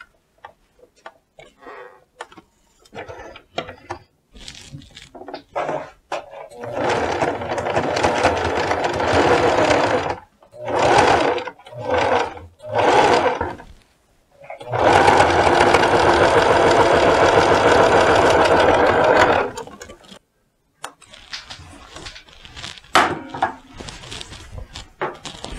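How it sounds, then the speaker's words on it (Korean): Domestic sewing machine stitching the front edges of a round-neck jacket at 1 cm spacing, running in several bursts of steady rapid whirring, the longest about five seconds, with brief pauses and fabric handling between them; no talking. "오른쪽, 왼쪽 앞서 먼저 박기 시작하겠습니다."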